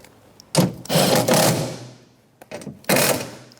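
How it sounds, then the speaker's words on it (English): Socket wrench turning bolts on a power window motor and regulator inside a 2006-2013 Chevy Impala door, heard as a few short bursts of ratcheting and metallic clicking, fairly close, with no talking. "Okay, let's tighten them all up. 10mm socket."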